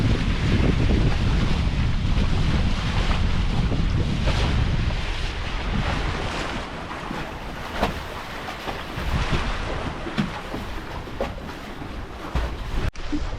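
Loud, roaring wind gusts buffet the microphone on a sailboat for several seconds, then ease into steadier gusty rushing with water sloshing around the boat.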